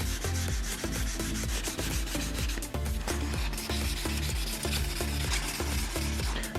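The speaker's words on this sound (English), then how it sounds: "Since I have a 2500 grit laying around, I'm going to use that as the last step." Paint runs are wet sanded with 2500 grit sandpaper, a steady rapid back-and-forth rubbing and scrubbing close up that stays loud and continuous throughout, with no voice.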